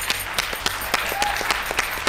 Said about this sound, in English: Maureen's clapping